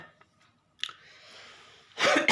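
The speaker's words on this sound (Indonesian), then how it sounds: "sedikit batuk" A single throaty cough bursts out loud and close near the end, after a faint breathy sound and a brief catch earlier in an otherwise quiet room.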